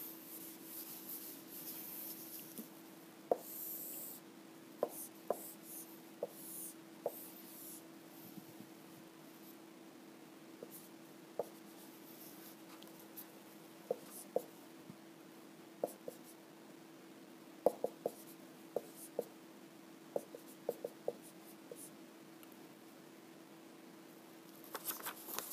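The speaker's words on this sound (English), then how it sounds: "draw the diagram." A pen scratches across paper while a diagram for a physics problem is drawn, with quiet continuous rubbing broken by frequent small taps and strokes over a steady low hum, close and faint, with no talking.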